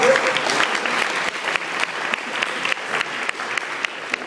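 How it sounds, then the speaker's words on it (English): A crowd at a university orientation hypnotist show breaks into a big round of applause, dense steady clapping that stays loud and even throughout, with no one speaking over it. "Give a big round of applause"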